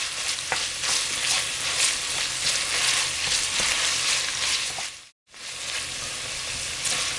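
Italian sausage and arugula sizzle loudly in a hot pan while being stirred and mixed, with a continuous frying hiss and occasional scraping, broken by a brief silence near the end.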